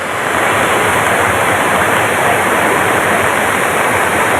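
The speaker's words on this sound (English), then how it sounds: "It's a beautiful waterfall." Susan Creek Falls, a waterfall in Oregon, pours with a loud, steady broadband roar of falling water, close and unbroken throughout with no voices.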